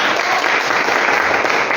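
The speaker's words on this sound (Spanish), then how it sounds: "un aplauso para su pastor." Applause from a church congregation for their pastor, a dense, even patter of many hands clapping together for a couple of seconds, close and fairly loud with no speech over it.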